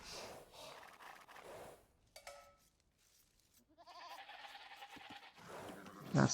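Sheep bleat in the Age of Empires 2 strategy game, a few short animal calls scattered among quiet gaps and other brief game effects, fairly faint overall.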